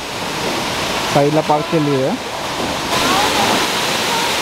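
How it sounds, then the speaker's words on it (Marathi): Constant rushing roar of a roadside waterfall beside a parked car, with a person speaking briefly over it partway through. "ब्युटिफुल वॉटरफॉल आहे रोडच्या बाजूलाच ऑन द वे"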